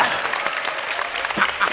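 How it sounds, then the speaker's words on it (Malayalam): An audience at a stage comedy show claps steadily and densely for a couple of seconds without a break. "എല്ലാവരും ഒന്ന് കൈയടിക്കാം"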